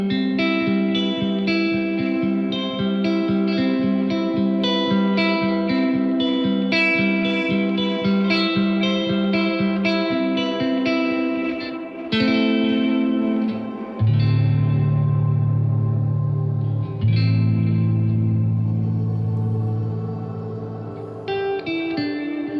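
Electric guitar played through a pedalboard with shimmery stereo effects, ringing chords and sustained notes washed in reverb, echo and chorus, loud and continuous with no talking.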